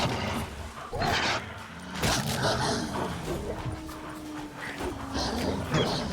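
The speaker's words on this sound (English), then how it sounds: "I'm hearing a lot of wolves." Wolves in the video game The Witcher 3: Wild Hunt snarl and yelp in repeated short bursts amid scuffling combat noise, moderately close and uneven in rhythm.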